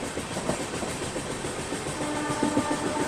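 An Indian AC superfast express from Bandra to Bhuj rounds a curve, steady loud rumble and rhythmic wheel clatter heard from on board, with faint squealing tones later on.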